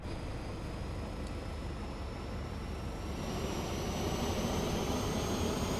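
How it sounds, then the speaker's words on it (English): An Airbus A320neo auxiliary power unit spools up in Microsoft Flight Simulator 2020, a steady airy roar with a thin high whine that climbs and swells slightly louder partway through, heard alone. "So APU should be starting up now."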